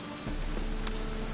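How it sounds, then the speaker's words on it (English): Steady rain falls in The Witcher 3, a soft, even wash of drops and patter that starts abruptly and continues without talk. "Rain, I like rain."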